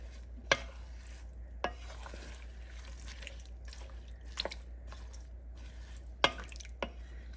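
Chopped potatoes and leeks are stirred in a pot for soup, with a handful of sharp, sparse scrapes and knocks of a utensil against the pot over a low steady hum.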